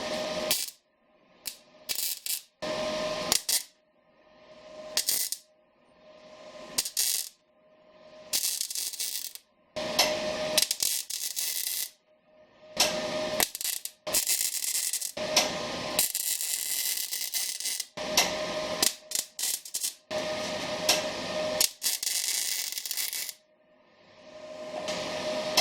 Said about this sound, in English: So I'm just going to do some tack welds real quick.